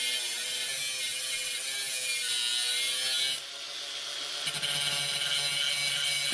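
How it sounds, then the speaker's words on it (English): An angle grinder with a cutoff wheel slices through an ECHO 58V string trimmer shaft, giving a loud, harsh, high-pitched grinding screech that wavers in pitch as the cut progresses and briefly eases midway. "And I'm just going to use a cutoff wheel on my grinder."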